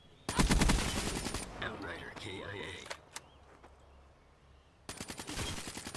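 KN44 rifle in Black Ops 3 firing full auto: a fast, loud burst of rapid cracking shots, a quieter stretch with some movement and game sounds, then another sustained burst at the end.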